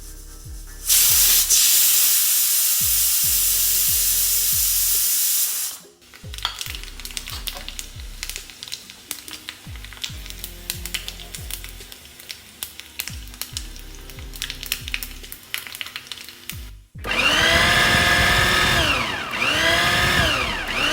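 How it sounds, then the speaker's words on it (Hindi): Loud steady sizzling and hissing in a home kitchen as lentils cook in a pressure cooker, with clattering and low knocks from pots in between, then a burst of hissing steam. "ये सारी आवाज़ें मेरी किचन से आ रही हैं। एक तरफ दाल पक रही है,"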